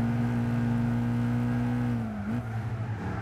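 A Dodge Viper race car in Gran Turismo 6 holds a steady, loud engine drone at constant revs. The pitch dips briefly near the end, then settles again, with no talk over it.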